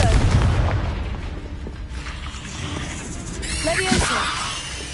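Confringo blasting spells go off in a Hogwarts Legacy fight, giving booming, crackling bursts with a sharp whooshing hit near the end, over a busy game soundscape and shouted voices.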